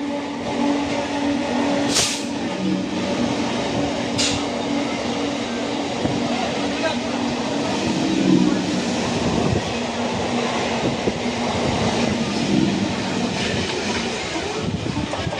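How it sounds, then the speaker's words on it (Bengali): An express train rushes past Adi Saptagram station, a loud, steady roar of wheels and carriages with rumbling clatter, close by and sustained for the whole stretch. "Express train পেরোচ্ছে।"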